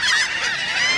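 Birds honking loudly and continuously at close range while being fed, a dense chorus of overlapping goose-like calls with no pauses.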